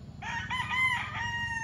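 A gamecock rooster crows once, close and clear, its drawn-out call rising and then trailing off over a low background rumble.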